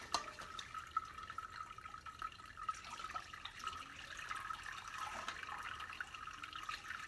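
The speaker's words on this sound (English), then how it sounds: "Okay, I'll let that finish draining through." Hot onion broth trickles steadily through a strainer into a large stainless steel bowl, a faint continuous dripping and splashing with no talking.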